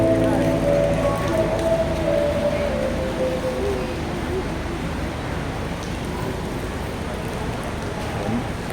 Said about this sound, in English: the rain seems to be a little bit stronger again